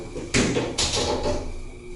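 Doors of a Montgomery Kone traction high-rise elevator at a Sheraton hotel sliding shut, a sharp clunk followed by a rumbling slide and second thump, close by over steady machine hum.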